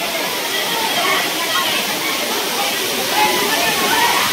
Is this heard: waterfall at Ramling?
yes